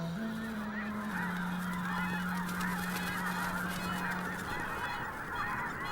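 A huge flock of red-breasted geese in Balkan wetlands honking together, a dense overlapping chorus of calls close and continuous, with one steady droning tone beneath for most of the stretch.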